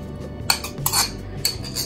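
Bun dough for poppy seed buns mixed with room-temperature butter and vanilla sugar, a few close scraping clinks of a utensil against a bowl in short bursts, with no talking.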